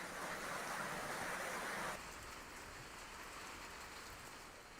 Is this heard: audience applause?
no